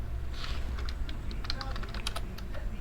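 Computer keyboard keys clicking in quick irregular bursts while code is typed, fairly close over a low steady room hum, with no talking.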